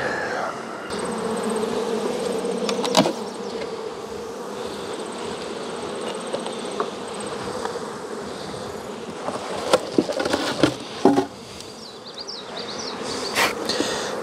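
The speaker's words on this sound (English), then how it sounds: "There's quite a few bees here." Honey bees swarm around an open hive, a dense continuous buzz close to the ear with individual bees zipping past in louder passes, and no talking.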